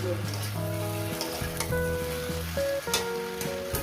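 Rohu fish head with okra and potatoes sautéing in oil over a low gas flame, with no water added, gives a continuous close sizzle, broken by occasional stirring scrapes and brief tonal kitchen sounds.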